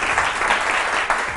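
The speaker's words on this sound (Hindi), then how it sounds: "इनके लिए एक्स्ट्रा तालियां।" Studio audience on a Pakistani morning talk show applauding, a dense burst of clapping from a crowd that stays steady and fairly loud for the whole moment.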